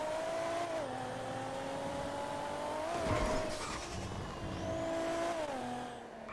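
A car driving in the video game Real Life Online, with a steady engine drone that shifts pitch as it accelerates and changes gear, plus a brief rough scrape midway, alone and fairly close.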